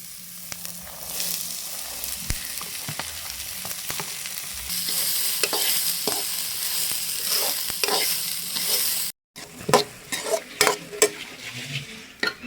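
Cluster beans stir-fry in a pan with onion, green chilli and curry leaves, sizzling steadily under repeated spatula scrapes and clinks, with a brief break before the stirring resumes.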